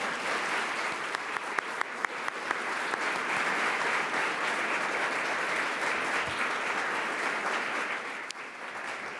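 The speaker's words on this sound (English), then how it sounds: "Let's give them a round of applause." Sustained audience applause at a Columbus Metropolitan Club forum, a dense steady wash of clapping from a large room with a few sharper individual claps near the start, holding evenly for about nine seconds.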